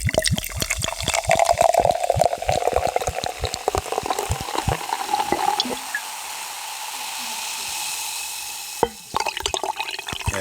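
Apple spirit glugs from a big bottle into a glass close to the microphone, a loud irregular splashing pour lasting several seconds before thinning into a quiet trickle and a brief clink near the end.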